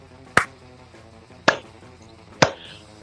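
Three sharp, isolated hand claps spaced about a second apart, each a crisp close snap that decays quickly over a faint tonal background hum.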